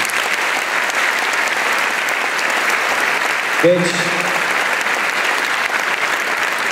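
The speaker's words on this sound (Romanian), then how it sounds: "Aplauze pentru chestia" A crowd applauds at a festive gathering, a steady broad wash of clapping throughout, with a brief voice cutting in near the middle.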